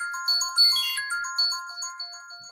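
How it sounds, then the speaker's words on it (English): A mobile phone ringtone plays a bright, repeating melodic pattern of clear tones, loud and close, with no voices. "That's my phone."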